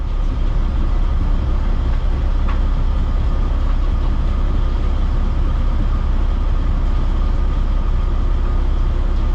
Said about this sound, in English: I couldn't get the truck out of gear, so it was stuck in two and I couldn't get it out